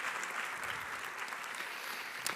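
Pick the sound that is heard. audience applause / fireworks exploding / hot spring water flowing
audience applause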